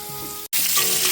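Potatoes and papaya sizzling steadily in hot oil in a pan, a loud, dense, continuous frying hiss broken by one brief gap.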